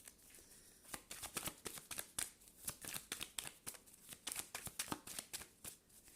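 Tarot cards are shuffled by hand in a quiet room, a close rapid run of crisp riffling slaps and flutters repeating steadily throughout, with no talking over them.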